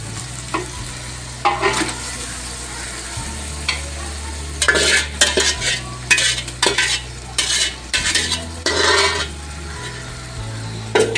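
Yogurt-marinated chicken tipped into a frying pot of biryani over a wood-fired stove, with bursts of metal spoon scraping and clattering over a low sizzle, close, with no voices.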